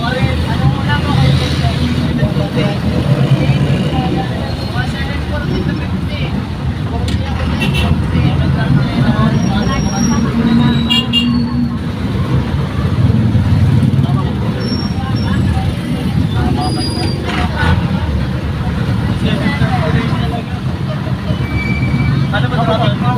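Road traffic heard from inside a vehicle, with a constant low engine and road rumble, occasional passing sounds and people talking and chatting over it throughout.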